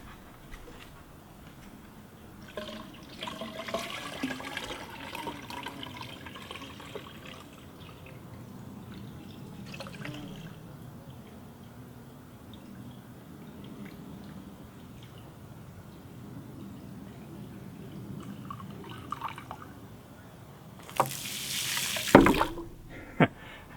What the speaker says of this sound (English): This time, I'm going to try and pour really slow when it gets to the very top.